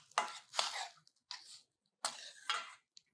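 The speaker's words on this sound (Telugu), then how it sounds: "ఆ కాడలు కొద్దిగా ఉంటే అవి కూడా కట్ చేసి ఇందులో వేసేస్తున్నా" Coriander stalks chopped for soup on a cutting board, four or five crisp knife strokes in an uneven rhythm, close and clear with quiet pauses between.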